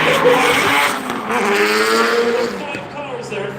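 Drift cars racing at Silverstone Japfest, a five-car train of Japanese cars with engines roaring and tyres squealing as they sweep past close by, while a commentator talks over the action.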